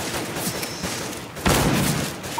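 Revolver shots in the shooter game CS:GO, a few sharp reports with one loud close blast near the end, cutting through background game noise with no talking.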